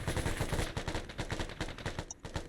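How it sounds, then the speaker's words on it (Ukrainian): Rapid bursts of gunfire crackle in quick succession, loud and close, like automatic weapons firing in an ArmA 3 video game battle. "Хтось стріляє по нас."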